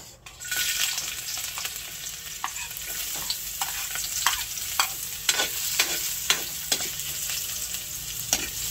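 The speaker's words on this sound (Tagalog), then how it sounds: "Akin na pong ilalagay ito pong bawang at saka po yung sibuyas." Garlic and onion sizzle steadily as they fry in a pan for a squash and string bean coconut stew, with repeated scraping stir strokes at a close, moderate level and no talking.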